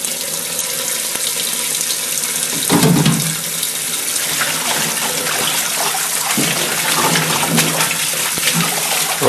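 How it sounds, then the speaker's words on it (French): Cold tap water runs steadily as tripe for Troyes-style andouillettes is given a final rinse, a continuous broadband splashing stream with brief surges where the flow hits the meat, close and loud throughout. "je vais la passer à l'eau froide pour la rincer une dernière fois."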